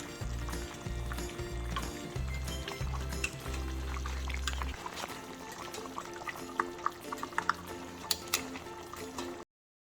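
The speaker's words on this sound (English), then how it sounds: "we're going to add all the spices that we had seeping in the water" Spiced water pours steadily into a pot of chicken karahi on the stove, a continuous liquid gush with dripping and splashing, then lighter sizzle and scattered drips as it settles.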